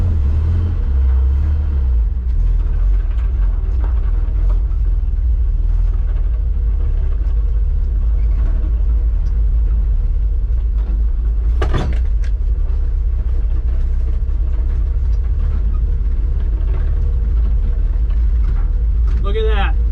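A Ford pickup truck with Twin-I-Beam suspension is driven fast across a backyard lawn, its loud engine rumble and jostling chassis noise steady throughout, with a sharp knock near the middle and a voice speaking briefly near the end.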